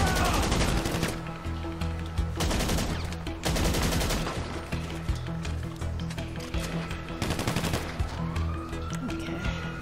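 Gunfire rattles through a GTA Online survival mission in rapid automatic bursts with loud, sustained volleys and brief gaps between them, over a thick bed of game sound and music.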